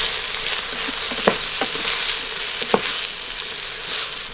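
Drained sticky rice frying in oil inside an Instant Pot, a continuous close sizzle with a few scraping stirs of a utensil against the pot, no talking.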